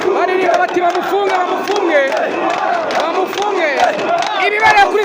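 APR FC football fans at a stadium chant loudly in protest, a dense mass of voices shouting in unison with a rough, rhythmic cadence that carries without a break for the whole stretch.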